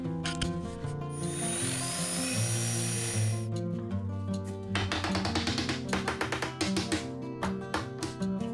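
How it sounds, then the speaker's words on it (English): A power drill bores into the bottom of a wooden interior door jamb, starting with a steady high whine, then breaking into a series of rough tapping, grinding bursts, close by with no talk. "Now I have to set up the drill and bore out the bottom so that bolt has something to recess into."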